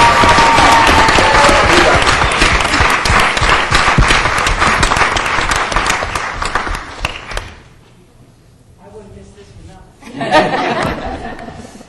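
A crowd applauds loudly and steadily for several seconds, fading out, followed by a voice and a brief renewed burst of clapping.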